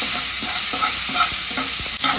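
Small tomatoes sautéing and being mashed in a hot pan for soya curry kuzhambu, a loud continuous sizzle with soft scraping stirs throughout, close up.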